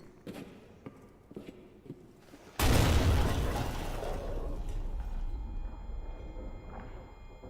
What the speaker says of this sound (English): The explosion was nowhere near me.